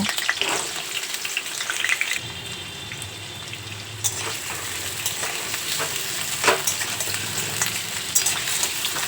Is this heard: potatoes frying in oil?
yes